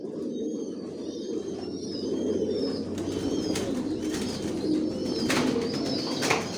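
Racing pigeons of a Johnson bloodline, about 200 pairs, in a breeding loft give low, continuous overlapping coos, mixed with scattered higher chirps and small rustles, close and steady with no voices.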